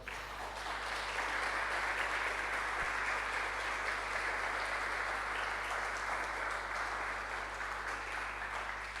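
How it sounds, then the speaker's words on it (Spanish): A church congregation gives a long, even wash of applause, many hands clapping together at a steady, moderately distant level with no break or voice over it. "Dale un aplauso al Señor."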